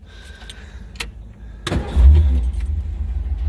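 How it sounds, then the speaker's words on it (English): A 1957 Ford Thunderbird starts up in a warehouse: a couple of faint clicks, then a sudden crank and catch at about 1.7 seconds, settling into a loud, steady, deep idle rumble up close. "Absolutely fires up on a dime."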